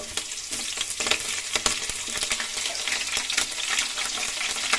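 Finely chopped green chillies frying in oil with cumin for a crispy aloo kachori filling, a loud close crackle and spitting sizzle with repeated spatula strokes throughout.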